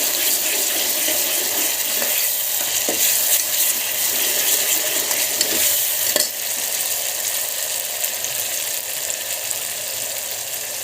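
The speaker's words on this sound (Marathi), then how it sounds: "आता यामध्ये आपण मसाल्याचा गोळा टाकूया थोडासा, आणि कढीपत्ता टाकला।" Masala paste and curry leaves fry with onion in a pan, a steady, loud, hissing sizzle that runs throughout with faint stirring clicks and scrapes.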